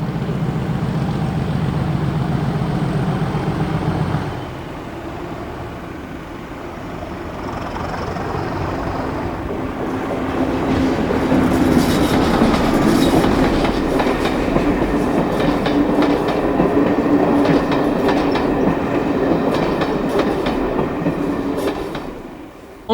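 Class 37 diesel locomotive 37154 hauling a Bristol to Cardiff passenger train, with a heavy engine rumble and steady rail noise that swells into loud clickety-clack from the wagons and then fades slightly at the end.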